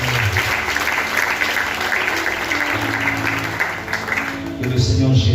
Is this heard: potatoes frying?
no